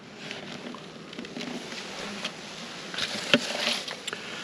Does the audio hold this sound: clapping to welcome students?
no